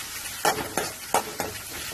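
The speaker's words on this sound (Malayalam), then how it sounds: "സവാള ചേർത്ത് നന്നായി ഇളക്കുക" Onion stirred in a hot frying pan for tomato chutney: four distinct scraping strokes over a steady close sizzle, no voices.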